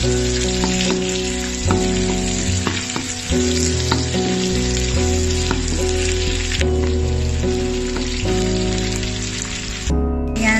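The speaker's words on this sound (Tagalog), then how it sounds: "Ang dali-dali lang po mag-gisa-gisa ng ganyang veggies." Onion and garlic sautéing in a pan, a loud continuous close sizzle with occasional stirring clinks and scrapes, no voices.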